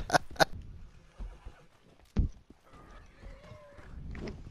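A horse in the video game Red Dead Redemption 2 neighs in two short, loud whinnies at the start, followed by scattered thuds and faint background game noise.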